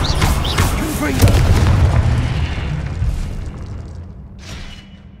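A loud, booming blast from the Confringo spell in Hogwarts Legacy erupts close by, then rolls off into a fading rumble, with a spoken incantation over the start.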